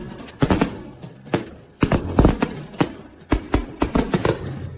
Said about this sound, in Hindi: आतिशबाजी बहुत खूबसूरत है